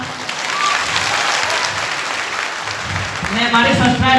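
An audience gives loud, sustained applause after a Dangi comedy program at a World Tribal Day event, with a voice rising over the clapping near the end.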